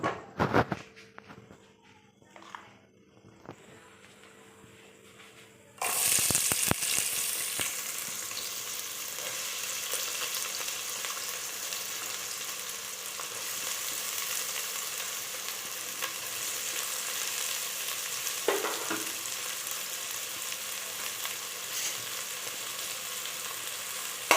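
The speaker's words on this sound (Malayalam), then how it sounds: "എണ്ണ ചൂടായി കഴിയുമ്പോൾ നമുക്ക് സവോള ഇട്ട് കൊടുക്കാം" Onions hit hot oil in a pan and burst into a loud, continuous sizzle after a few seconds of quiet kitchen clatter. The frying stays close and steady, with occasional stirring.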